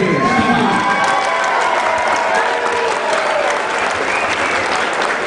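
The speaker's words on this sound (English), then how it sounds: "Ladies and gentlemen, a nice round of applause for these warriors." Loud crowd applause and cheering for amateur kickboxing fighters at a WAKO USA vs Poland event, a dense steady roar of clapping with shouts and whistles throughout, with some voices mixed in.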